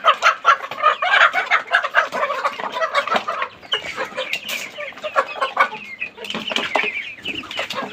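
Hens cluck and squawk inside a small home chicken house, busy overlapping calls close by with a brief rooster-like cry, and no talk over them.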